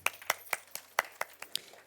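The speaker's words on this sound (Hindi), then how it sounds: "जिन लोगों ने हाथ खड़े किए उनके लिए तालियां" About eight sparse, separate hand claps ring out at an irregular pace in a lecture hall during a gender equity colloquium, fairly faint and brief, with no voices over them.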